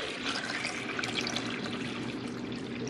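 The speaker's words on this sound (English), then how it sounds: "I'm gonna pour my water in." Water is poured steadily into the reservoir of a Mr Coffee 12-cup coffee maker, a close, continuous splashing trickle with no talking.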